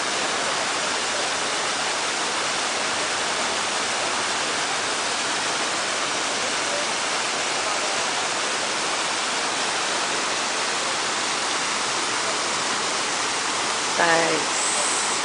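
A waterfall pours in a steady, dense roar that fills the whole scene, loud and unbroken throughout, with a brief faint voice near the end.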